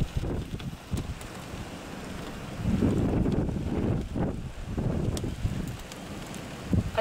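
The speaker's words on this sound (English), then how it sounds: "Oh, here comes the wind." Strong wind during a thunderstorm in Lyndonville, Vermont, gusting and roaring into the microphone in uneven surges that swell and fade, with no voices.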